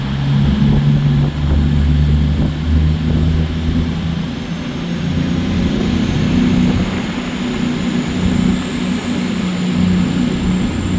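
An Avanti West Coast train rumbles into Stoke-on-Trent station, a loud, sustained roar of engine and wheels that swells and eases slightly as it passes close by, with no talk over it.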